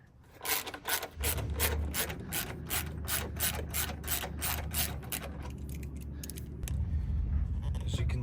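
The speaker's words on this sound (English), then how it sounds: "Next up, undoing this bolt right here." A hand ratchet loosening a bolt on a Harley-Davidson Road Glide motorcycle after the seat is removed, a long run of rapid, evenly spaced clicks up close, louder and rougher toward the end.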